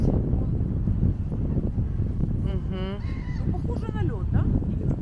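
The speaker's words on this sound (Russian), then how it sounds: "Слышу, кричат павлины." Peacocks call in a park in Warsaw, a couple of loud, nasal honking cries rising above constant gusty wind rumble.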